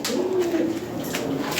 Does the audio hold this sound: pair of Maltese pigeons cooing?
yes